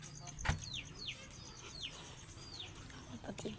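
Pigeons with soft descending calls repeating every half second or so at a low, fairly close level, a single sharp knock or flap near the start and faint background noise.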